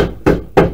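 A hammer strikes staples into a wooden swarm trap box, giving two sharp, close taps about a third of a second apart, each with a short dull wooden ring.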